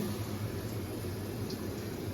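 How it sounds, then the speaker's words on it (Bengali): Slices of bitter gourd frying in a pan, a steady close sizzle and bubbling of hot oil, continuous and fairly loud with no speech. "এখানে দেখো উচ্ছে ভাজা হচ্ছে"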